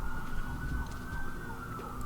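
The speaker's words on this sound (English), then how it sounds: "listening to the sirens slowly drift off into the distance" Emergency sirens wail steadily on a city street, a sustained tone hanging at moderate distance over low traffic rumble, with no one speaking.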